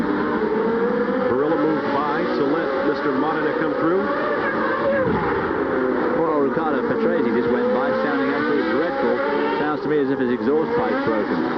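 Formula 1 race cars at the 1990 US Grand Prix in Phoenix, a continuous high-revving engine drone with shifting pitch as cars pass, heard under steady commentary.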